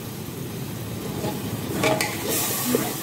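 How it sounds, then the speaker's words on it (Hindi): Spice masala frying and being stirred in a pan for an arvi and chana dal dish, a steady close sizzle with a few scraping stirs near the end. "अब हम अपने मसाले जो हैं थोड़े से वो पका लेंगे, अच्छे से भून लेंगे सब"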